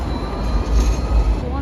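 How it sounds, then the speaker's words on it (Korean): A tram bound for Circular Quay in Sydney rumbles past nearby, a loud low rolling rail noise with a steady high whine above it throughout. "서큘로키 가는 트램이에요"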